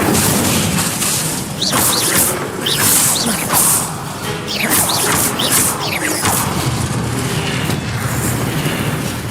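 Fiery spell bursts from the Incendio fire spell being cast over and over in the game Hogwarts Legacy, loud whooshing blasts and crackling booms repeating every second or two over a dense, continuous game soundscape.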